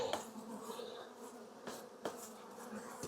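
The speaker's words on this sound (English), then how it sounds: "There's any bees in here. I want to brush them off." Honey bees buzz around an open beehive during queen-mating checks, a steady close insect hum with a few brief brushing taps.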